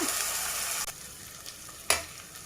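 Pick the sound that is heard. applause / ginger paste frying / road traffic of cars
ginger paste frying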